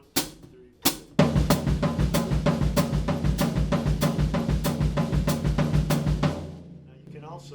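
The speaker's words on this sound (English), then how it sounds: "first lick we want to do is the right hand and bass drum" Drum kit lick played with the right hand and bass drum alongside the hi-hat: a quick count-in of two hits, then a steady driving run of sharp cymbal strokes over thudding kick for about five seconds, close and loud.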